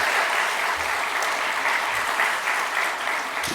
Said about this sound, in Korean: 우리 인사하고 들어갈 때 큰 환영과 축복의 박수 하겠습니다.